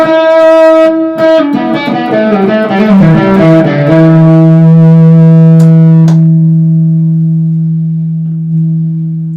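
Gretsch electric guitar played through the bridge pickup with distortion, a run of gritty overdriven notes and chords ending in one long sustained chord that rings out and slowly fades, loud and alone.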